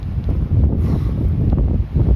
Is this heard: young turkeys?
no